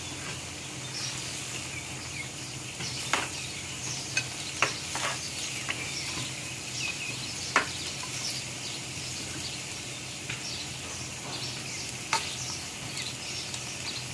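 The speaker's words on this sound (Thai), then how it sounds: "ดูเขาเริ่มเดือดไปเรื่อยๆนะคุณผู้ชม" Fish curry with pickled bamboo shoots simmering in a pot, a steady soft bubbling hiss broken by scattered small pops and clicks, with no talking.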